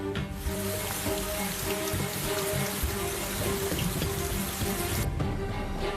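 Heavy North American monsoon rain over the Grand Canyon pours down in a dense, constant hiss and patter, loud and unbroken throughout, with no voices.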